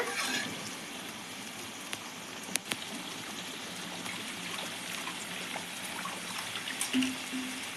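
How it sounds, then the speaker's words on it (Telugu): Small amount of water poured into a drumstick masala curry in a pan, a soft steady trickle with faint kitchen clatter and a couple of sharp knocks. "ఇది వాటర్ వేస్తున్నానండి కొద్దిగా"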